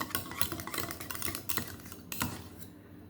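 Pudding batter with ghee is mixed in a bowl, a utensil scraping and clinking against the sides in quick, uneven strokes, close and fairly quiet.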